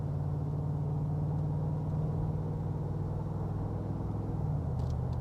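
A 2019 Mercedes-Benz G63 V8 at a car dealership in Las Vegas puts out a steady, low, throaty rumble at moderate volume, unbroken throughout.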